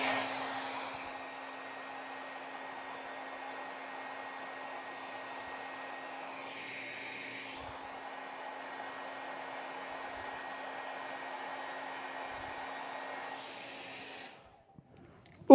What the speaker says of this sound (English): I'm going to kick on this hairdryer really quick